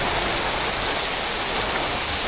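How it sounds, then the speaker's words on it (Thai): Heavy rain pours down hard at Siam Square in Bangkok, a loud, dense and constant wash of noise filling the whole stretch with no voices. "ไปดูบรรยากาศฝนตกกันแหละ"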